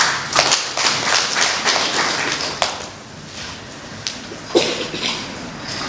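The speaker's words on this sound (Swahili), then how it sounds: "Hongereni sana na mjipigie makofi" Audience applause at a formal ceremony hosted by a deputy minister: a burst of scattered clapping that thins out, with a few louder individual claps standing out near the end.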